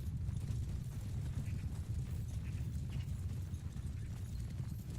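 Cavalry horses in Bannerlord thunder along as a low, continuous rumble of massed hooves, distant and muffled, with a faint busy clatter of battle above it and no voices.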